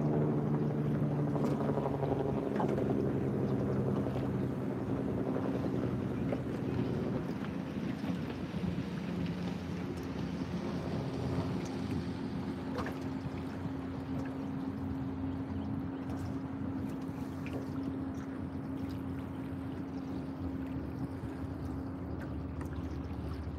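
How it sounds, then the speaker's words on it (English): Speedboat passing on the Potomac River while people fish from shore, its steady engine drone heard from a distance, droning on continuously through wind noise for the whole stretch. "There's a speedboat that doesn't respect no wake zones."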